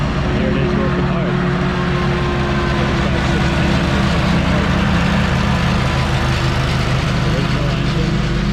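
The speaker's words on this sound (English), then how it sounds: "this is the 2017 Walker that we had the engine out of." A 2017 Walker lawn mower running on its original engine, a steady loud droning rumble with a constant low hum that holds throughout, close by and working hard.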